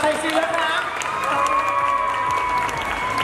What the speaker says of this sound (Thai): ขอเสียงปรบมือให้กับพี่อ้ําพัชราภาชัยศิลป์นะคะ